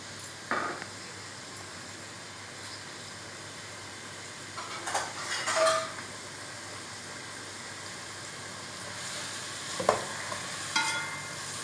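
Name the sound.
onions frying and being stirred in a pan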